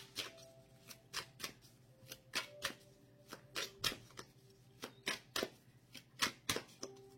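Oracle cards are shuffled for a reading, a rapid series of close crisp riffling snaps and flicks repeating in quick bursts over a faint background hum.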